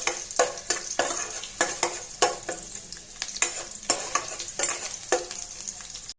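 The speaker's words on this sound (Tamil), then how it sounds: "இதை லைட்டாக ப்ரௌன் கலர் வர அளவுக்கு இதை வந்து எண்ணெயிலே வறுத்துக்கலாம்" Garlic sizzles and crackles in hot oil as it fries light brown, with repeated scraping stirs in a steady rhythm, close and fairly loud.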